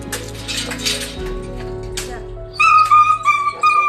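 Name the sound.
puppy crying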